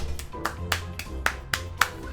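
Steady hand clapping from a crowd, with sharper individual claps popping out over the dense patter.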